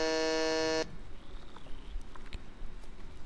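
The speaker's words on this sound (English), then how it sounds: "Every time you hear that beep, that means you've failed to do something and you got a penalty" A loud, harsh electronic penalty buzzer from the video game Terminal 81 blares for under a second, then gives way to faint shuffling and soft clicks.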